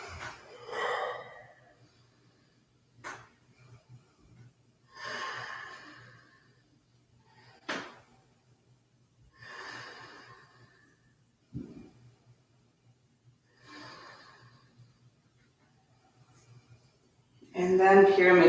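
Slow, steady breaths during a yoga crescent lunge, each inhale and exhale rising and fading at an even pace, close and soft, with brief talk near the end.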